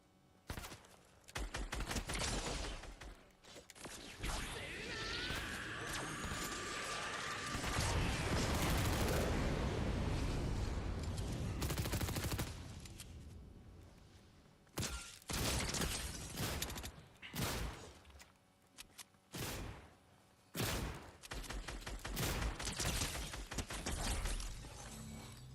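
Video game gunfire in Fortnite, with dense bursts of rapid shots, crashes and breaking impacts, loud and continuous at first, then broken into separate volleys with short gaps.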